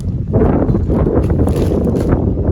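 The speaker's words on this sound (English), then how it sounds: "It's a little windy." Steady, loud wind buffeting the microphone, a low rumbling roar that fills the whole clip with a few gusty swells.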